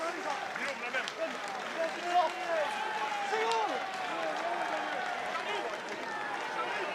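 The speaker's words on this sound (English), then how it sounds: "Garachi receiving deserved applause from the crowd" A rugby crowd at a France versus Ireland under-20 championship match applauds steadily as a substituted player leaves the field, a distant, sustained wash of clapping with a commentator talking over it.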